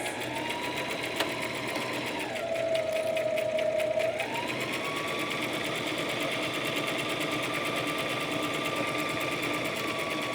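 A sewing machine runs steadily, stitching slippery fabric for a knotted headband, its motor whirring in a continuous drone that rises in pitch briefly mid-run before settling into an even hum.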